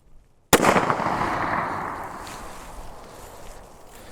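A single sharp handgun shot of a Federal 115 grain round-nose full metal jacket round, loud and close, bursting out of near silence and then trailing off in a long ringing decay.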